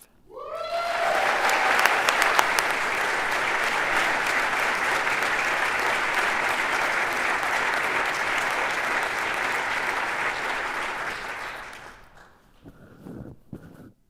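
Sustained applause from an awards ceremony audience honoring architecture awardees, dense clapping lasting about twelve seconds before tapering into a few scattered claps.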